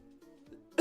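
A single short, harsh cough bursts out abruptly at the end of a quiet stretch, close and loud, from someone recovering from a throat illness.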